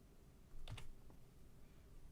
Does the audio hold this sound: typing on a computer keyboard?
yes